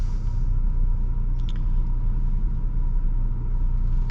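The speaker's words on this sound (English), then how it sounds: "let us set off in the Ranger with the 4-cylinder" Ford Ranger pickup with a 2.3L 4-cylinder engine setting off, a steady low engine rumble with road noise heard from inside, constant and fairly loud with no talk.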